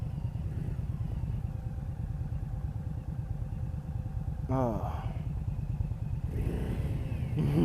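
A 2018 Indian Scout Bobber motorcycle runs with a steady low engine rumble close by, and a brief rising rev is heard partway through while someone makes a short exclamation.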